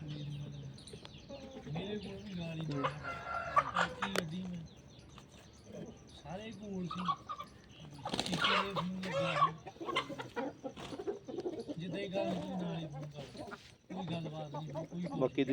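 Hens in a backyard flock cluck and squabble close by on a hot day, with a rooster-like call rising now and then, while people talk over them throughout.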